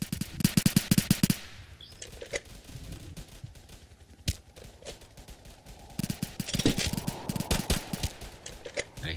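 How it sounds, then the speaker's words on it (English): Rapid bursts of gunfire from a Roblox Watch Dogs free-roam session, loud clusters of repeated shots at the start and again near the end, with scattered single cracks in between. "I hear gunfire everywhere."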